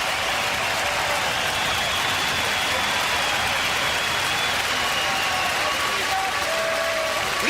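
A loud boxing arena crowd roars during the Arthur Abraham vs Jermain Taylor fight, a dense, continuous wash of cheering and noise that stays strong throughout.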